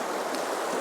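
Broadband rushing of river water flowing steadily in an autumn setting, a continuous even wash without breaks, close and fairly loud.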